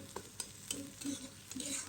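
Onion and garlic frying in ghee for a tarka, a quiet close sizzle broken by several light stirring taps and scrapes.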